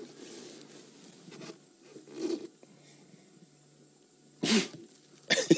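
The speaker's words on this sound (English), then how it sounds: "One sneeze gave everyone a fright." A sharp sneeze bursts out near lion cubs of the Nkuhuma Pride on an afternoon safari drive, followed by a second abrupt blast. Both are loud against a quiet background of soft rustling.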